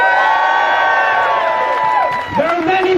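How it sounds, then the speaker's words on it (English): Rally crowd in Auckland cheering and whooping in solidarity for Gaza and Palestine, loud and sustained, with high shouts and cries rising over the roar throughout. "Give her a cheer."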